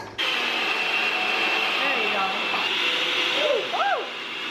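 A blender's steady whirring motor drones close and loud for several seconds, with a few rising and falling tonal whines over the hum.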